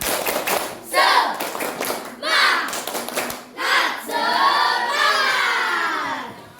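A classroom of children does a spirited clap chant, rhythmic bursts of clapping mixed with loud shouted voices in rapid sequence, close and energetic.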